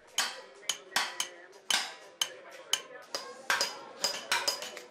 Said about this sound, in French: les marteaux résonnent